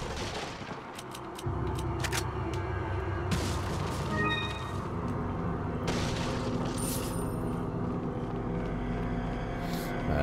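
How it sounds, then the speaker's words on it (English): A cannon in Resident Evil 4 fires heavy booms, several separate blasts a second or two apart over a rumbling game background, loud and close. "It's a cannon."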